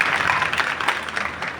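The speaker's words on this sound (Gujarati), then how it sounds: "એક વાર જોરદાર તાળી પડવું છે" Audience at a Shreemad Bhagvat religious gathering applauds in a steady, dense wash of clapping from many hands, moderately loud and continuous throughout.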